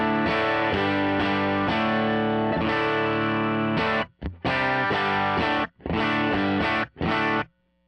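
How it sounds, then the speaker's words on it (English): Electric guitar played through a Tonex amp modeler loaded with a driven Fender Prosonic profile, giving loud, distorted sustained chords and riffs that cut out in short gaps near the end, with no talking. "I went ahead and just loaded on the Fender Prosonic driven profile from Tone Factor"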